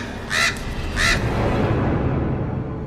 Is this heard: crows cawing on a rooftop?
yes